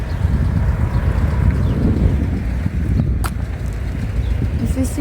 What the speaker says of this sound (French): il y a un petit vent frais quand même